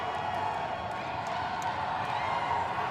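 A women's college basketball crowd at a PSAC quarter-final between California and Edinboro, cheering and roaring in a steady, dense wash during free throws, with a voice faintly underneath.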